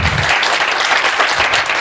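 A crowd at a Habits of Happiness session applauds in a loud, dense, steady wash of clapping that lasts the whole short moment.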